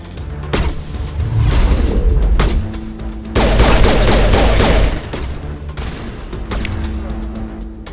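Rapid gunfire from allied squadmates in the video game Mass Effect, bursts of overlapping shots and booms, loudest in a dense volley near the middle, with short pauses between.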